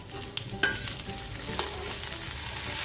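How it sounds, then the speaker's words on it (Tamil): Greens, including mudakathan keerai, are sautéed in a pan for thuvaiyal: a steady, soft sizzle with occasional stirring scrapes, close up. "நல்லா சுருளை வதக்கிக்கணும்."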